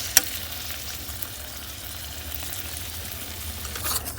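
Spice paste sizzles and fries steadily in a pan for a Bengali brinjal and paneer dish, a constant close crackle with a light tap of stirring near the start.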